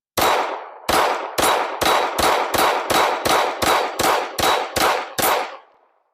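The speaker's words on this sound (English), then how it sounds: "Anyway, let me shoot." Eleven sharp shots ring out from a Walther WMP .22 WMR pistol in a steady, evenly spaced string, each crack loud and close with a short decaying tail and no talking.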